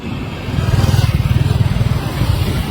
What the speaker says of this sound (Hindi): मैं बाइक राइड कर रहा हूँ